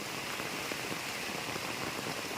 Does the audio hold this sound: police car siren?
no